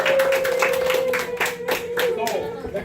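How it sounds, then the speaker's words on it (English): Students in a math class clap together in fairly rhythmic, close-miked bursts, while someone vocalizes or hums over the clapping for the few seconds it lasts. "So everybody, applaud."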